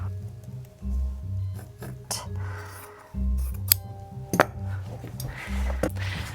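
Scissors snip through dress fabric in a series of close, crisp cuts, each with a soft rasp and a light metallic click of the blades.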